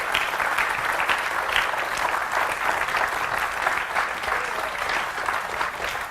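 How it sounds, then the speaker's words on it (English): An audience at a small indoor stage event with a wooden podium applauds steadily, a dense, even wash of clapping that holds at the same level from start to finish with no talking. "Give him a nice round of applause."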